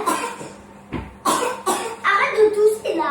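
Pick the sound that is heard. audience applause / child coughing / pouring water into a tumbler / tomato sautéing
child coughing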